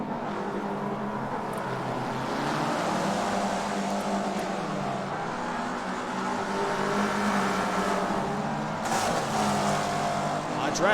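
Race cars in a Forza Spec Racing Series event drone and rev steadily as engines pass, with loud shifting engine tones under continuous race commentary.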